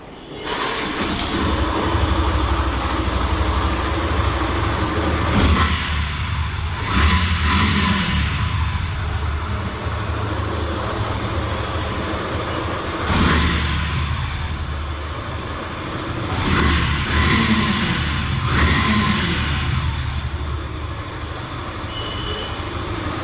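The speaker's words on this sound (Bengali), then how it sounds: "আপনাদেরকে বাইকটি সাউন্ড দেখাবো" A Yamaha FZ version 2 motorcycle engine running steadily with a loud, continuous broadband roar, swelling slightly at a few points as if revved, heard close without speech.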